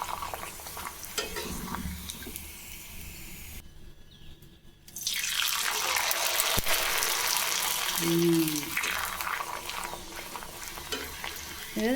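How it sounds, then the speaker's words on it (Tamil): Sago appalam papads deep-fry in oil. After a brief quiet gap, a loud, broad hissing sizzle builds and stays strong, with a few clinks and faint voices in the background. "வச்ச அப்பளத்தை நம்ம பொரிச்சு காட்டுறேன். நல்லா பொரிஞ்சு வருது பாருங்கள்."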